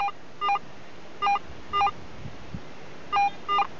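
A Garrett metal detector gives short electronic target-tone beeps in pairs, each a brief warbling tone, over a faint background hiss.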